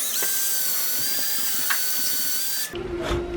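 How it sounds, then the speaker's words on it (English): A 6 mm drill bit bores into a loudspeaker foil jig with a steady high whine that holds for nearly three seconds, then winds down as the motor stops. "Ideally you would have a bit of a bigger drill, but this works."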